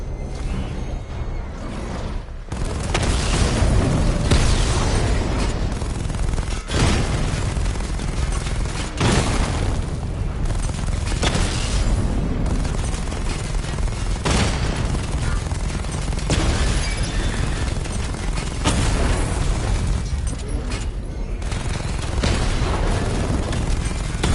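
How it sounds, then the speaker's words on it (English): Missile barrage explosions from the Batman Arkham Knight video game, a loud, dense run of booming blasts and crackling bursts that keeps going for the whole stretch with almost no pause. "Charge the missile barrage to level 2 to destroy up to 4 targets at once."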